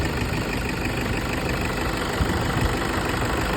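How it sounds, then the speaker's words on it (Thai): A pickup truck engine idles steadily close by, a continuous low rumble with an even, unchanging tone and no voices. "เครื่องยนต์เดินนิ่งๆนะครับ"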